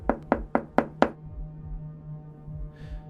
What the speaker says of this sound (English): their conversation was interrupted by a sudden knock on the door.